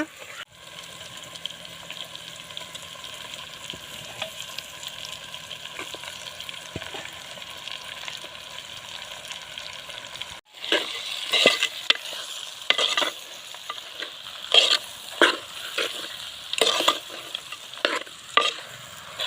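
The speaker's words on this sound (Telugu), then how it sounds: "జుట్టుకోడి కూర ఎత్తన్నా పొయ్యి మీద." Telangana-style rooster chicken curry cooks in a pot on the stove: a steady sizzling hiss for about ten seconds, then louder, irregular scrapes of a ladle stirring the curry.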